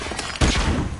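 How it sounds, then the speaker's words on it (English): A flashbang grenade in Call of Duty Modern Warfare Remastered bursts with a sudden sharp blast, followed by a dense ringing, crackling wash that lingers at high level. "Flashbang out."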